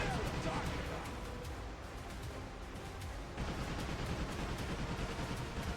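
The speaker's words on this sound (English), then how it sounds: "fire the machine guns dead ahead" Continuous rapid machine-gun fire from a ship in the video game Like a Dragon: Pirate Yakuza rattles on, dense and loud, with a voice speaking faintly underneath amid a busy game soundscape.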